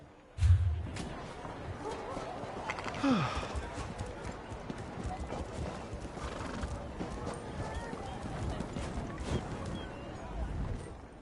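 Restless horses in a video game clip-clop over the ground and neigh loudly, hooves sounding steadily and close throughout, with a sharp whinny rising near the start over a dense background.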